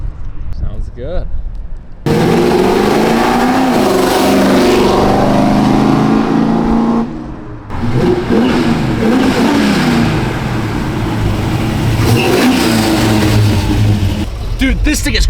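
Budget Camaro running new heads and a choppy cam accelerates hard, loud throaty engine roaring through rising revs with a short drop off the throttle midway, close and forceful.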